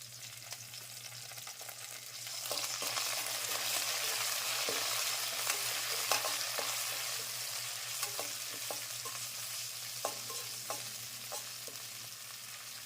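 Curry leaves hit hot oil with green chillies while khara pongal is being made, a dense, steady sizzle starting after a quiet moment, punctuated by sharp clicks of a spoon stirring in the pan over a low hum.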